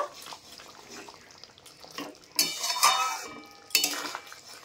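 Coriander leaves and garam masala are stirred into a koi fish curry, with intermittent clinks of a spoon against the pan and wet scraping in short bursts, no talk.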